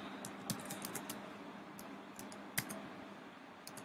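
Quiet, steady typing on a computer keyboard while entering a discount rule title, with rapid irregular key clicks, a few sharper louder taps standing out, and no talking.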